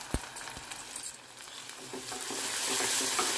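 Ginger garlic paste frying in a pan, a few sharp stirring clicks and scrapes at first, then a rising, steady sizzle that grows louder and hissier toward the end, close up with no talking.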